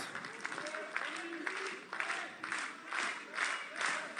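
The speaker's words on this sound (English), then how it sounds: "And the crowd solidly behind Ricky Sosa here" A wrestling crowd claps and cheers steadily in surges behind a commentator who speaks over the noise throughout a pro wrestling match.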